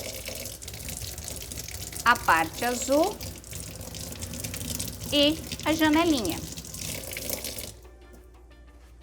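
A refractometer rinsed under a running tap, with a steady wash of flowing water and splashing, while someone speaks over it before the flow cuts off near the end.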